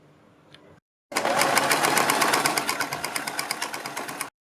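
Sewing machine stitching buckram along a kurti neck: a faint murmur first, a brief silence, then a fast steady burst of rapid mechanical clatter, loud and close, running for about three seconds before stopping abruptly.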